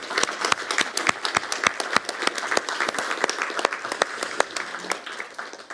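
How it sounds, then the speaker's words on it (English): Audience applause at a hackathon event during Future Week 2021, a steady, dense round of clapping with distinct sharp claps standing out, fairly close and sustained for several seconds before tapering slightly. "let's give a big hand of applause for Maarten Lambrechts"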